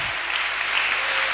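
A church congregation applauds at a French-language worship service, a steady dense wash of clapping that stays even and loud throughout, with no distinct voices standing out.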